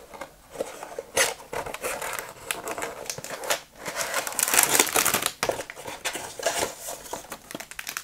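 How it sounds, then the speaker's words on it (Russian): Continuous crinkling and rustling of cardboard and packaging being handled and torn open up close, with scraping and rubbing noises throughout. "Давайте вскрывать коробочку и посмотрим на набор поближе."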